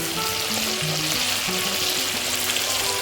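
Sliced onions with chopped garlic fry in a pan, giving a steady dense sizzle that fills the whole clip with no break and no voice over it.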